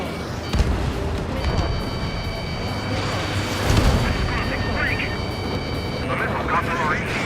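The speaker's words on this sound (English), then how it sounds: "Strider 1, missile away." Missile launch in Ace Combat 7 jet combat, a whooshing roar and low rumble over continuous aircraft engine noise, with tonal warning beeps and voices talking over the action.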